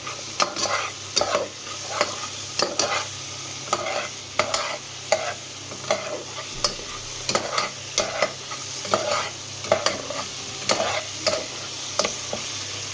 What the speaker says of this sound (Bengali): পুরো মশলাটা কিন্তু ঘিয়ে কষা হচ্ছে।